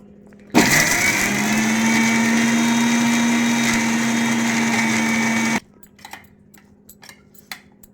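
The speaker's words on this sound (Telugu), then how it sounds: "అందుకని మిక్సీలో వేస్తున్నాను" A mixer grinder whirs loudly for about five seconds with a steady high-pitched motor drone as it grinds mango ginger for pickle, then stops, leaving faint clicks and rattles.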